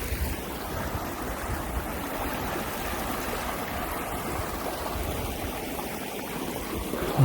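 A creek flows beneath a bridge in a wet forest at night, producing a steady, moderately loud rushing and babbling with no other sounds.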